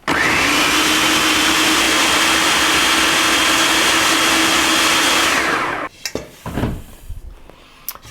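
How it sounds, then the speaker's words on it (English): A blender whirs at full power through muffin batter made with banana and nuts, a loud steady whine for about six seconds, then cuts off and is followed by a few clinks and knocks. "I'm gonna blend it up till it's nice and smooth"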